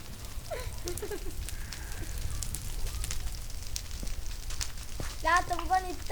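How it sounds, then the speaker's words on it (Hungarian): A video game campfire crackles with a soft, steady sizzle and scattered pops, running continuously beneath brief chirpy sound effects in a Minecraft-style world. "Látom, van itt tábortűz is."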